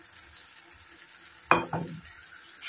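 Turmeric water is poured into a frying spice paste of tomato and masala, setting off a sudden loud hiss that fades over about a second above a quiet background sizzle, with no voices.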